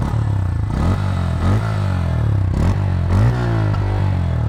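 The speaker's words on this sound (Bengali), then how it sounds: "ইঞ্জিনের সাউন্ডটা শোনেন" A Bajaj Pulsar N160 motorcycle engine runs close by, idling with a loud, even low thrum and several quick throttle blips that lift its pitch and then settle back.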